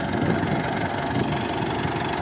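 Tractor engine running steadily while harrowing a sunflower field, a continuous loud mid-to-low drone with constant vibration and no pauses.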